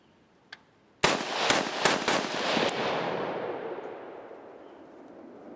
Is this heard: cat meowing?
no